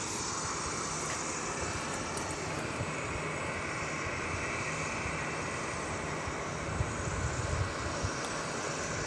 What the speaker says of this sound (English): That's an aircraft just pulled back, just got pushed back from the gate